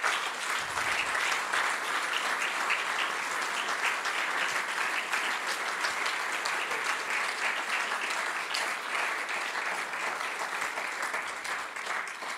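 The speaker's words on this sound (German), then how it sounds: "Ich denke, die haben sich einen Applaus verdient." Sustained applause fills a hall at a closing ceremony of the South Tyrol state government, steady dense clapping from a large audience lasting throughout and fading slightly toward the end.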